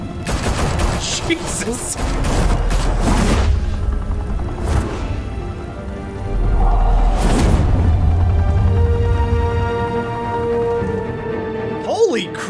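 Gunfire rings out in the Batman Telltale video game, sustained bursts and booming shots rolling in heavy waves with a loud, dense rumble, while people talk and exclaim over the shooting.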